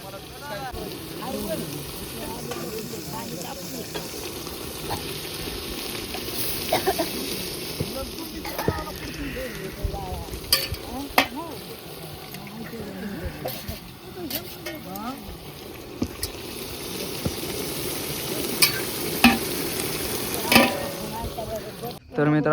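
Mutton seasoned with turmeric and salt sizzles and crackles as it cooks in a pot and gets stirred, with scraping and clattering throughout and people talking over the cooking.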